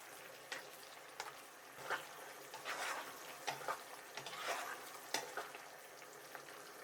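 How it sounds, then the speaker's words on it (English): General Tso's beef meatballs fry in a pan, making a faint, quiet sizzle with occasional stirring scrapes and soft clinks spread through it. "Add the meatballs. Occasionally stir for 2 minutes."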